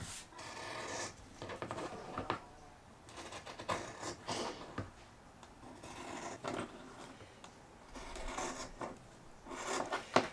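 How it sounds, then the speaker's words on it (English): Scissors trim the fluffy frayed edge off scrap fabric, producing soft, close, repeated snipping and rustling strokes at a quiet level. "Just cutting off the fluffy edge."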